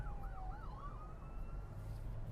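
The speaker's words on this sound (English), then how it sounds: "Ambulance. Can you hear it?" An ambulance siren wails outside, its rising and falling tone sweeping past at moderate distance over a steady low rumble of traffic.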